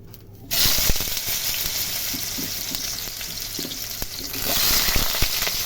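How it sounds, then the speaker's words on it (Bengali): Raw banana pieces fry in hot oil without salt, giving a dense, steady crackling sizzle close by that swells after a sudden start and stays busy throughout, with occasional faint clinks. "আমি কিন্তু সবজিগুলো ভাজছি নুন ছাড়া"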